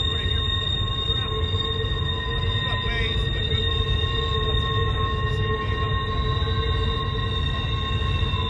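A long freight train passes at Horseshoe Curve, Pennsylvania, with a loud, steady rumble and sustained high wheel squeal held throughout, close and continuous.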